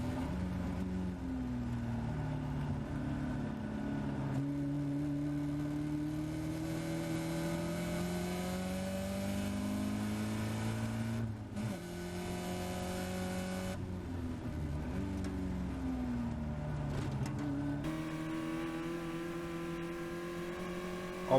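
Caterham race cars from the Sigma 150 and Sigmax classes lapping Oulton Park, recorded on board, with a loud, steady engine note rising and falling through gear changes and revs for the whole stretch.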